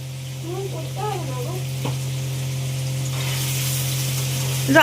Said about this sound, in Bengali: বাবা এমন জোরে জোরে পনির নাড়ছে